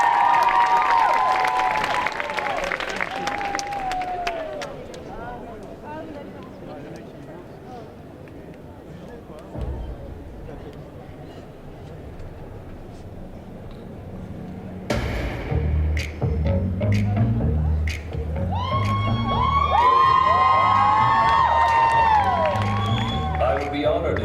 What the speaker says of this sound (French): On applaudit très très fort Axis en Andrea Rhodea de Final Fantasy